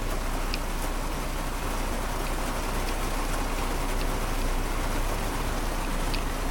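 Steady rain falls after a night of storms, a dense continuous hiss of drops on surfaces that holds even and fairly loud throughout, with no voices.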